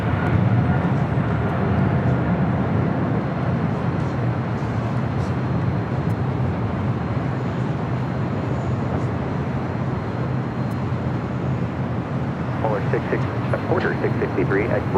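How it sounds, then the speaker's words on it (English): A China Cargo Boeing 777 freighter rolls down runway 25 right at LAX, making a steady, broad jet roar that holds at constant loudness throughout, with faint radio voices at the very end. "I hear heavy rolling down at 25 right. China Cargo, 777 freighter."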